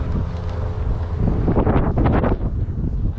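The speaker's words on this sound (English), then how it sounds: "It's a bit windy, a little bit cold" Wind buffets the microphone outdoors at a car boot sale on the Fylde Coast in a loud, rumbling gust that swells in the middle and then eases off; no one speaks.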